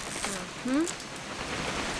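Steady rain falls in the video game What Remains of Edith Finch, a soft constant patter under a brief voice in the middle.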